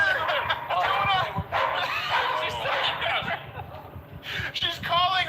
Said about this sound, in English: She's calling her other dog friend.